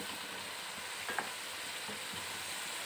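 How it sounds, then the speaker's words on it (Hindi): Half-cooked chicken with freshly added capsicum sizzles in a pan, a soft steady hiss with a couple of brief stirring scrapes near the middle, quiet and with no voices. "चिकन हमारा हाफ कुक हो गया है, अभी हम इसमें कैप्सिकम ऐड कर देंगे"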